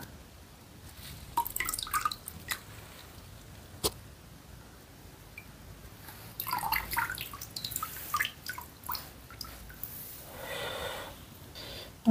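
Water drips and splashes irregularly while a plant cutting is rinsed up close, scattered small drops and short trickles with quiet pauses between and no talking.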